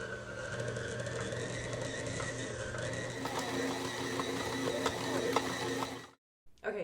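A stand mixer kneads potato bread dough at medium speed with a quiet, steady mechanical whir and gear rattle, then stops near the end.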